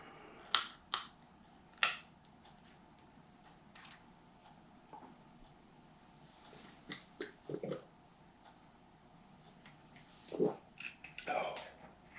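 Someone uncaps a small 50 ml shot bottle of Bird Dog strawberry whiskey, making a few sharp, close clicks and crackles spread over several seconds in a quiet room.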